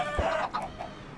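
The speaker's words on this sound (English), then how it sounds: "These chickens are so loud." Minecraft chickens clucking on a multiplayer server farm, a short burst of a couple of squawky clucks close by, loud and on their own without talk.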